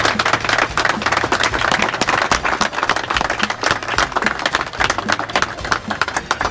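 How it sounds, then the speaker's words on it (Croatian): Dense applause from a group fills the space, many hands clapping in a loud, continuous patter with no pauses. "još jedan aplauz za naše domaćine"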